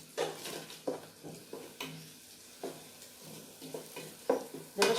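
Lamb pieces with water and saffron are stirred in a pot, a close run of repeated scraping strokes in a steady rhythm over a light sizzle.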